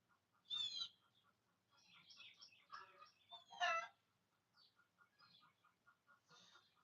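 Chickens cluck and call nearby outdoors in a few separate bursts, moderately loud against a quiet background.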